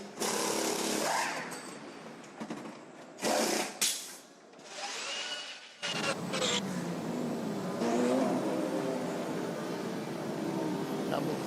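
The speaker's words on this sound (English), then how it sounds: "Number 20 BMW wheel spins away from its pit stop, just trying to build a little bit of heat into the tyre" BMW race car in a pit lane at an endurance race, engine revs cut in and out in short bursts, then a sustained loud roar as it pulls away, with commentary talking over it.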